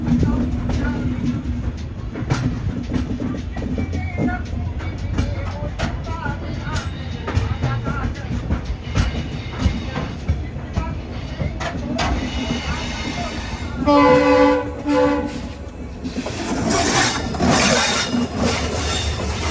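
A passenger train on the Jaipur to Ajmer line pulls toward the railway station, a steady rolling rumble and hiss close by, with a brief high metallic wheel squeal rising partway through.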